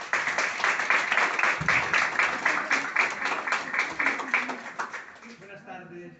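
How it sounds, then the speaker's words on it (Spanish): Audience applause for a lecturer at a talk on the Knights Templar at the Casa de Soria in Barcelona, steady indoor clapping that fades out near the end, with a voice briefly heard. "Un gran aplauso para él."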